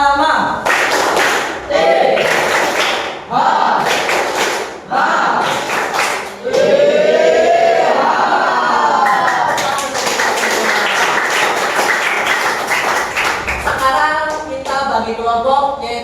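A school class performs the tepuk piyama clapping game, many hands clapping together in quick rhythmic bursts with short pauses between patterns, mixed with children's voices chanting and talking throughout.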